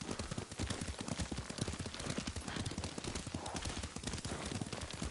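Steady clip-clop of horse hooves at a riding pace in the samurai video game Ghost, dense and continuous across the whole stretch, with a brief whinny-like touch and no talk over it.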